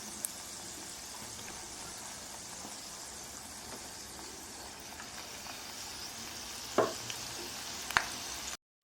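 Spinach leaf bhajiya frying in hot oil over a low flame, a steady soft sizzle and crackle throughout, with a couple of brief clinks near the end.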